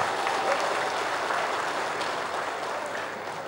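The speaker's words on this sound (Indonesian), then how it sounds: "Tepuk tangan untuk KPU Kota Tegal" Steady applause from an audience at the 2018 Tegal mayoral candidates' debate, greeting the city election commission, KPU Kota Tegal. Dense, even clapping fills the whole stretch at a moderate level with no clear talk over it.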